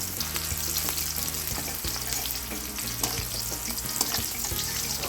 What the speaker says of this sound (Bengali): এর মধ্যে আস্ত কয়েকটা দারচিনি দিয়ে দিলাম